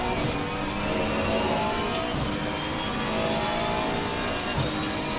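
A McLaren GT race car engine drones steadily in the Assetto Corsa Competizione sim during a 2.4-hour series race at Zolder, a continuous, moderately loud roar with no talk over it.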